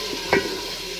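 Peas fried and stirred with spices in a pan for aloo matar curry, a soft steady sizzle with one brief louder scrape of stirring early on.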